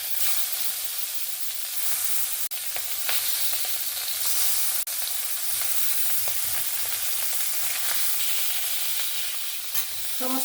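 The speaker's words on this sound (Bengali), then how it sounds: "ওতেই আমি বাদবাকি মাছগুলোকে ভেজে নেব।" Salted tangra fish frying in a small amount of leftover oil, a continuous close hissing sizzle with occasional spatters and a few faint utensil taps.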